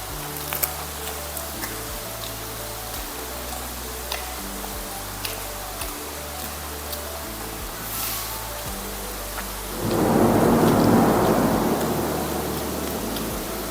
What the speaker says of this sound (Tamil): வெளியில் வந்து நல்ல மழை பெய்யுது.